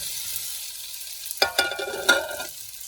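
Boiled, peeled potatoes tipped into a hot pan, landing with a couple of sharp sizzling bursts and spoon clatter after a quiet simmering lead-in, close and fairly loud.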